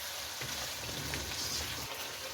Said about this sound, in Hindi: और अब दही को इसमें भूनें।